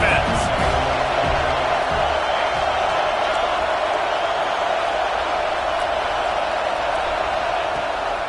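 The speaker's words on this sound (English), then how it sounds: "Big 3rd down as the crowd gets behind this defense." A stadium crowd roars on a big third down in a college football video game, with Oregon hosting USC, a dense, constant cheer that holds at full strength throughout.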